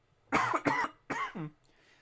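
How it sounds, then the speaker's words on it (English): Three harsh, close coughs in quick succession, the first two tightly paired and the third slightly longer, with near silence around them. "yes, I know I still have a little bit of a cough"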